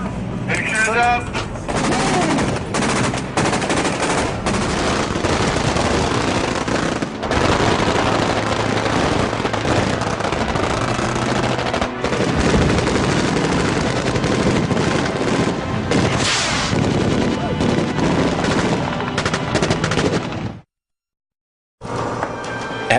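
Miniature pyrotechnic explosions and gunfire on a Terminator 2 film set, a dense, loud continuous barrage of bangs and blasts over about twenty seconds before cutting out abruptly.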